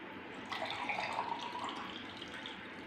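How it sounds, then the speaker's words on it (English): Water poured from a cup into a glass and a mug during a classroom measuring demonstration, a steady close trickle that swells briefly then settles into a continuous splash with no talking. "I pour water from the cup in a one glass and in a mug also."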